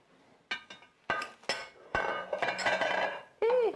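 Enchilada casserole being spooned into a 9 by 13 baking dish: a series of sharp clinks and knocks of a utensil against the dish, then a scraping, shuffling stretch, close and clear with no speech.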